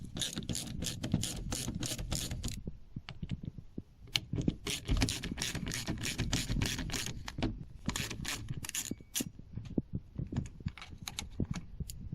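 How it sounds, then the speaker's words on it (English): A ratchet turns T25 bolts out of the door mirror on a Smart car, giving rapid clicking runs in repeated bursts with brief pauses, close and fairly loud. "Next, undo the 3 bolts holding in the mirror."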